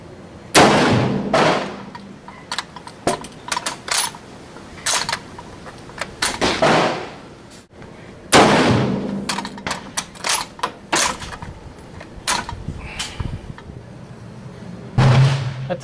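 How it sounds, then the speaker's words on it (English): A Mosin Nagant 91/30 bolt-action rifle fires at an outdoor range, sharp loud shots spaced out singly with pauses between them and metallic bolt clacks in between. "Just thought I'd bring this old battle rifle out, get some shots through it."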